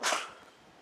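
A single short sneeze, close and fairly quiet, a sharp burst that fades within a fraction of a second, with no talk.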